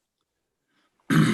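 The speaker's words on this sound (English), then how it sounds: "excuse me, I had to cough." A single short, rough cough or throat clear at a faculty and staff town hall meeting, loud and close after a second of silence.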